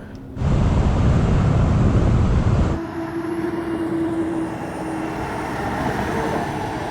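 A 44-tonne Mercedes Actros truck's engine roars loudly under load, then the sound drops abruptly as the gear changes, leaving a lower steady rumble and whine from inside the cab.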